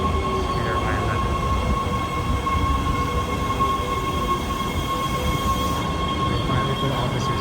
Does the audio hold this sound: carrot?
no